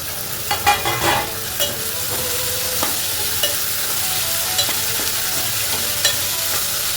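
Six medium onions, cut fairly thick, frying in oil for North Karnataka jowar kadubu: a steady close sizzle with a few sharp stirring scrapes and clinks over it.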